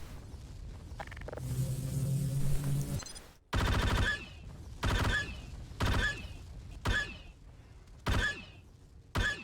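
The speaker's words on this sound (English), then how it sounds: "Lay down some covering fire." Repeated bursts of gunfire in the Garry's Mod Star Wars roleplay game, about six sharp loud volleys spaced roughly a second apart after a sustained mechanical whirring buildup.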